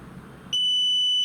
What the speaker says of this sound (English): as soon as you hear beep, that means this whole process is done